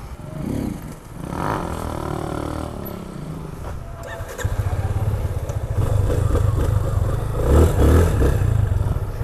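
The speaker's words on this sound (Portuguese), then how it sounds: "Vamos dar uma volta, sentir um pouco da moto e ver se dá pra puxar ela no grau." A black 2019 Yamaha Fazer 250 motorcycle being ridden, engine idling and revving before pulling away, the drone rising and growing louder toward the end, with brief voices near the start.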